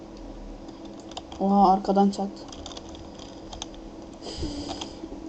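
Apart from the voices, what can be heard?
computer keyboard keys being pressed while playing Wolfteam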